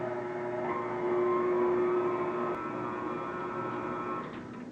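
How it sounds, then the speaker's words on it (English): Stand mixer whirring steadily as it mixes whole wheat bread dough with 7-grain cereal, a close, even motor hum with faint shifts in pitch, no talking. "Now we just want to mix this for a little while."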